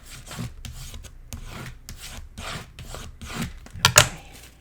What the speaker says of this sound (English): Burnish that down really well.